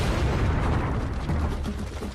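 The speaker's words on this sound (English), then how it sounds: "the largest cannon that had ever been built was put to devastating effect." Giant siege cannon fired in 1453, built for Sultan Mehmed II to break massive fortress walls: a dense, sustained low rumbling roar of blast and debris, loud and continuous for the whole stretch with no voices.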